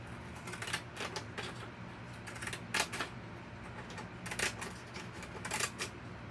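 Craft scissors snip through paper in a series of crisp, close cuts, irregular bursts of slicing crunches separated by short pauses, over a faint background hum with no speech.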